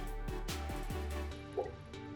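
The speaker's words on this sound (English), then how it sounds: "Pour about 3 to 5 centimeters of water into the bottom of the container." Water poured into a jar for storing lettuce, heard as a few quick gurgling glugs early on, then a short trickle and faint drips, quiet and close.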